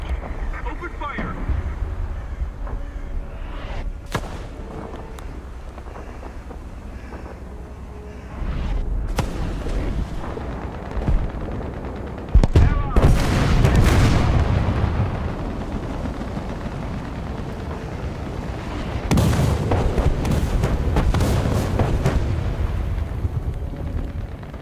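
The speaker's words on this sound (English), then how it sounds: "Artillery strike." Artillery strike explosions in the tank combat game War Thunder land as several heavy booming blasts spaced apart, each with a rumbling tail, over a low background din.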